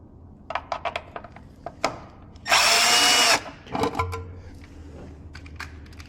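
A power drill whirs in one high-pitched burst of about a second while installing a step on an L-19 Bird Dog aircraft, surrounded by scattered clicks and knocks of handling tools.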